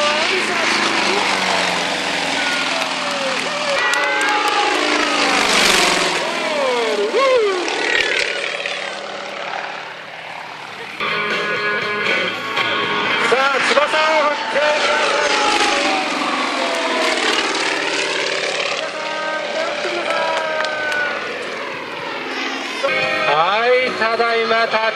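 A propeller aerobatic airplane flies through a display, including a knife-edge pass, then comes in to land, its engine whining and droning as the pitch sweeps up and down with distance, while an announcer talks over it.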